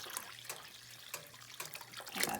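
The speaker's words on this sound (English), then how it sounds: "So we're going to add this cool water in, the rest of the gallon." Cool water pours and splashes into a pot while mead is being made, coming in uneven gushes and trickles up close, fairly quiet, with nobody speaking.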